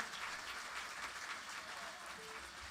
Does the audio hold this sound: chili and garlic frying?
no